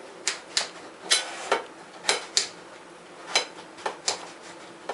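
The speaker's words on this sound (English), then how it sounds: "Then you just want to cut these into squares." A knife chops potatoes into squares on a cutting board in a kitchen, a steady series of a dozen crisp, close taps at an irregular rhythm.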